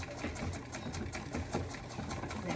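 A vintage Singer 15-88 treadle sewing machine stitches through faux leather, giving a quick, steady mechanical chatter of needle strokes, close up and continuous.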